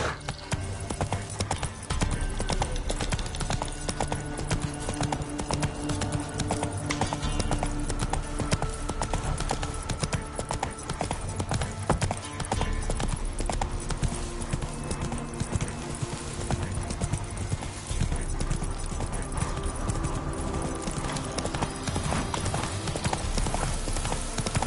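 Roach, a horse in The Witcher 3 on PS5, gallops with loud, steady, continuous hoofbeats that run the whole stretch over dense game ambience.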